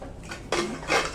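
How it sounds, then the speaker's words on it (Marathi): A lid is set onto a home pressure cooker, bringing brief metallic clatters and a scraping clank, close and fairly quiet. "आता याला झाकण लावून घेऊया"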